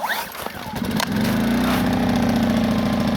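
A petrol generator engine is pulled into life: a short scraping start, then within a second the motor catches and settles into a loud, steady close-up running drone.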